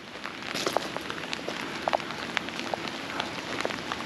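Steady rain pattering on surfaces at a railroad depot building in Schuylkill County, Pennsylvania, with scattered sharper drips standing out from the constant hiss, close and moderate in level, no talking.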